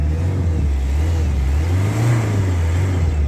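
A 2008 Toyota Corolla diesel engine revs up and settles back, a steady low rumble with a brief rise in pitch, close by and with no talking.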